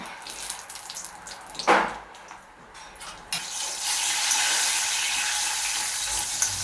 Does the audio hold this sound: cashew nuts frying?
yes